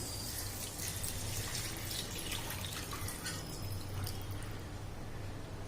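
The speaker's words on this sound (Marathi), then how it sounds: "हे चिकन शिजवलेलं पाणी आहे ते टाकतोय" Cooked chicken broth poured into a pot of Manchow soup, a steady close splashing and trickling with bright droplet sounds, fairly quiet throughout.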